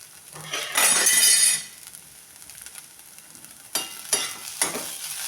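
Grated potato bhaji frying in a pan is mixed after salt is added, with a loud burst of scraping and sizzling followed by a quieter pause, then several sharp spoon scrapes and clinks against the pan, no talking.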